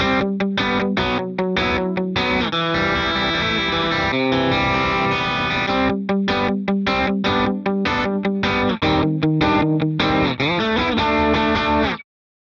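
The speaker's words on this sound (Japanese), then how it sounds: "今回はこちらの MXR ダイナコンプモデリングを使います。" Electric guitar played through an MXR Dyna Comp compressor model in BIAS FX 2, with clipped, even rhythmic chords and choppy cutting strums at steady volume, no talking.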